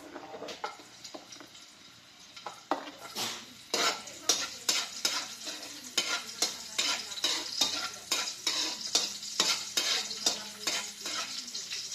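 Garlic and onion frying in hot oil in a pan for a shrimp dish, with a steady sizzle and repeated clinks and scrapes of a spoon stirring against the pan, no talking.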